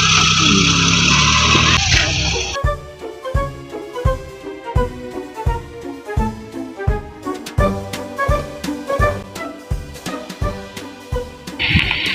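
A car engine putters in a loud, regular pulsing rhythm as the vehicle sets off, following a burst of louder noise at the start, with chugging beats repeating steadily for several seconds.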